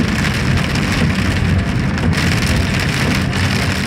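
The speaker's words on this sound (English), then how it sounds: "If this keeps up like this in another 20 minutes of rain like this," Heavy summer rain pours steadily during a thunderstorm, a dense continuous roar of drops on surfaces with a faint low rumble beneath, loud and unbroken with no voices.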